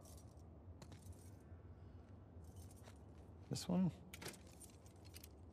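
Keys jangle and clink in The Last of Us Part II, a short metallic rattle burst in the middle of the scene, under a brief line of speech and quiet ambient background.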